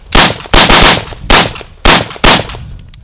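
A Troy Medieval 5.56 rifle fires five loud, sharp shots at uneven intervals, each crack close and followed by a brief ring-out.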